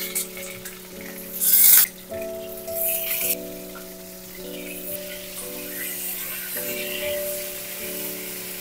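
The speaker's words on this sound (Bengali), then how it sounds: "তেল গরমও হয়ে গেছে, গ্যাসের ফ্লেমটা মিডিয়ামে রেখে পটলগুলো ভেজে নেব" Pointed gourd (potol) fries in hot mustard oil in a kadai over a medium gas flame, giving a soft continuous sizzle with a brief louder crackle early on, under steady background music tones.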